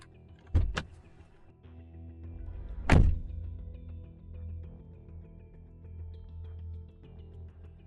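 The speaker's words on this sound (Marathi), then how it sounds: "त्याने स्पीड मध्येच गाडी गेटच्या आत घेतली आणि गाडी पार्किंग मध्ये लावत तो खाली उतरला" A car pulls into a parking spot after coming in through a gate, with two solid door thunks close by, one early and one a few seconds later, over a low steady engine idle.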